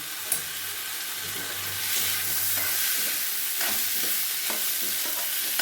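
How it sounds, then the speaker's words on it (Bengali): Rice and spices are stirred for Kashmiri pulao in a pot, giving a continuous gritty scraping and sizzling hiss with occasional soft knocks, steady and close, with no voices. "দিয়ে এবার নাড়িয়ে নেবো ভালো করে মিশিয়ে নেবো"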